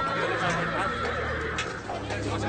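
A horse whinnies and neighs close by, a loud drawn-out call, in a 2014 German fairy-tale film.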